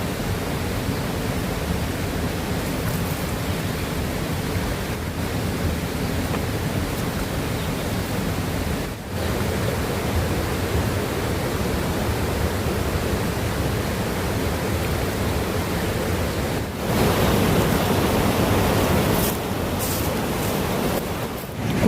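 Steady broadband rush of river water flowing beside a mountain campsite, continuous and close, holding an even level throughout with no voices.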